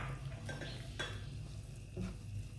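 A spoon stirs gram flour (besan) in hot ghee in a pan over a slow flame for besan halwa, giving scraping, soft sizzling sounds with a few metallic clinks, close and moderately quiet.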